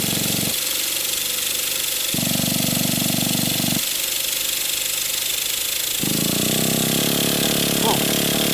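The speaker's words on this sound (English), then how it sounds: "I'm going to start start turning the engine over" An old small engine cranks over repeatedly in a basement, a loud, steady mechanical churning in several bursts with short pauses between attempts, the last stretch sounding rougher as it tries to catch.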